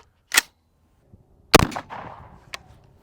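Outdoor shots from an AR rifle firing green tip 5.56 rounds: a sharp crack, then a louder report with a short decaying tail and a faint later bang.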